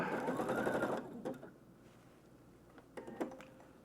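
A sewing machine reverse stitches a fabric repair on military prototype pants, with a dense, loud run of rapid needle clatter for about a second, then quiet with a few faint clicks and a brief later burst.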